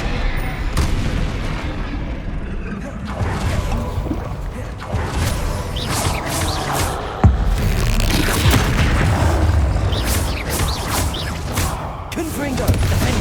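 Repeated Confringo explosive spell blasts boom and crackle through a chaotic Hogwarts Legacy battle, with dense continuous rumbling and a sharp impact midway, loud and sustained throughout.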